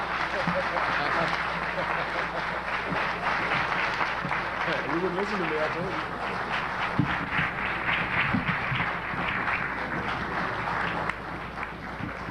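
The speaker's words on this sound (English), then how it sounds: "let's give him a warm round of applause" Crowd applause and cheering at a Kwame Toure speaking event, a continuous wash of clapping from a large audience throughout, with a voice speaking over it.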